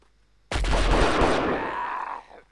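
A sustained burst of automatic gunfire from the video game Delta Force, during a Chad mission, erupts suddenly and loudly. It rattles on for nearly two seconds, then cuts off with a short fading tail.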